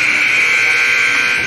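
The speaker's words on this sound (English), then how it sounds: "buzzer sounded." Ice hockey end-of-period buzzer at a youth game against Team Illinois, a loud steady electronic drone holding unbroken for the whole stretch amid arena noise.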